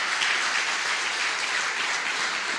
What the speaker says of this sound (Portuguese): dê um aplauso a Ele nessa noite